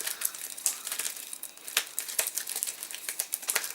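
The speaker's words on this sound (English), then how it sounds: "We're going to shuffle and mix them." Game cards being shuffled and mixed by hand make soft, continuous papery rustling and crinkling with small sharper flicks, close and fairly quiet, with no speech.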